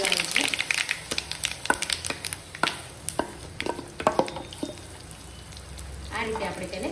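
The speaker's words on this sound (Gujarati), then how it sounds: "આ ખીરું ફટાફટ આપણે તેની ઉપર રેડી દેવાનું છે" Handvo batter made with sooji is poured over a sizzling tempering of mustard seeds, curry leaves and sesame seeds in a pan. The sizzle and frying are broken by sharp clicks and scrapes, and a voice talks over it.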